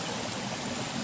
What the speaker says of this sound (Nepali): अब चाहिँ म यस्तो ब्युटिफुल छङ छङ छङ छङ छङ छङ पानी